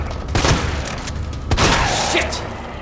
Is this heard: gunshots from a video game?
yes